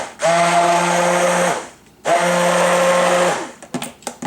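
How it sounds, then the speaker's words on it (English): A stick blender mixing cream whirs loudly in two steady bursts of about a second and a half each, with a brief pause between, followed by clattering handling noises. "I like to hit it with the stick blender after I put in the preservative"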